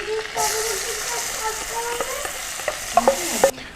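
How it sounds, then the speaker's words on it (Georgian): Chopped onion fries in a blend of butter and oil, crackling in a steady bright hiss while a spoon stirs through it, with louder scraping knocks near the end and a faint voice beneath. "დავბრაცოთ ხახვი."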